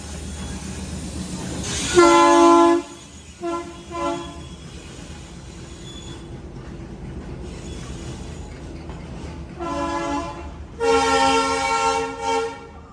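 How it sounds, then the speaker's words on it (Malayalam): Loud, sustained train horn blasts sound in several bursts at a station platform after shunting, with a long low rumble of rail traffic running underneath between them. "പൊന്നോ എന്തൊരു ഹോണടി."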